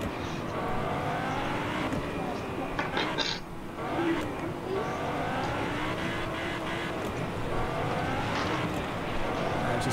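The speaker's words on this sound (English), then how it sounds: "Alright, just keep driving up and down the road" A car engine drones steadily through a Fortnite match, driven continuously up and down a road, with a low even rumble and a brief rise in pitch as it accelerates.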